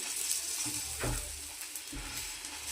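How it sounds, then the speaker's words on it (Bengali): Rolls of egg batter fry in a pan with a steady close sizzle, broken by a couple of low knocks and scrapes as the pieces are moved. "এইভাবে প্রত্যেক কটা ভেজে নেব।"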